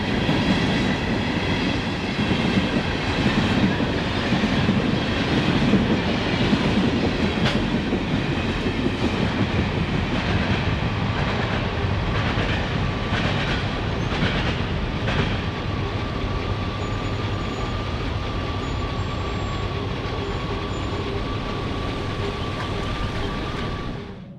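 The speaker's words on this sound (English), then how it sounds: "Passing the elevator, the train accelerated out of town." A Kansas City Southern freight with a three-unit locomotive set, pulling unballasted cars, accelerates out of a small town past a grain elevator. Its loud, steady rumble and clatter hold throughout, with a faint thin squeal appearing midway and easing off near the end.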